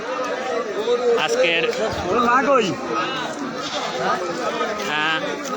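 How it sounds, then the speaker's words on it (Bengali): Cattle at a Qurbani livestock market where over a thousand head have been brought for sale. Animal calls rise and fall amid loud, constant crowd chatter, with people talking throughout. "আজকে 1000-এর উপরে গরু উঠেছে, অনেক সুন্দর সুন্দর গরু আজকে।"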